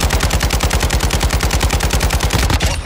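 Sustained automatic weapon fire in Call of Duty, a loud, fast, steady stream of evenly spaced shots for nearly three seconds before stopping abruptly.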